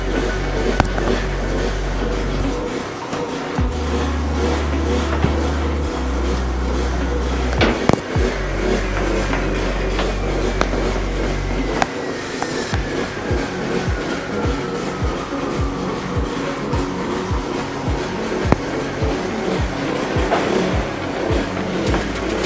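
A pressure washer fitted with a sewer jetter kit runs loud and steady, its motor drone holding throughout with intermittent thumps and pulses as a hose is fed down a sewer pipe.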